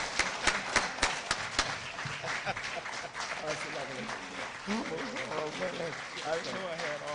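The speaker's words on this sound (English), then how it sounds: "Let's give him a warm round of applause." An audience applauds to welcome a speaker, with sharp separate claps at first, then a sustained burst of clapping mixed with cheering voices and shouts.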